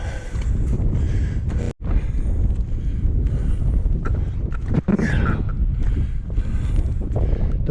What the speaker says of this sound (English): The wind is battering me here.